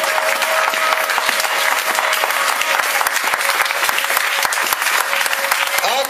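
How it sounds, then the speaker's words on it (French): A church congregation claps loudly and steadily, dense applause that stays at full volume throughout with a faint voice and tones beneath it. "Acclamons plus fort Jésus."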